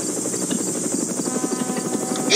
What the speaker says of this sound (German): Ich nehme jetzt auch den Heli.